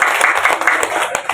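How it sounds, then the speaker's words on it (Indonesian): Audience clapping for a guest speaker at a teachers' workshop, a short burst of dense, steady hand claps from a nearby group. "Tepuk tangan dulu nah buat Pak Edi Hartono."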